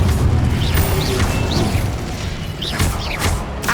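Incendio fire spells cast in Hogwarts Legacy burst out as loud, close booms with whooshing crackles and mechanical clatter, several blasts in quick succession with no talk.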